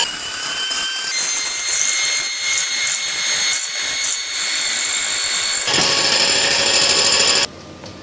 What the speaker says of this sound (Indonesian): Kita mixer dengan kecepatan sedang ya.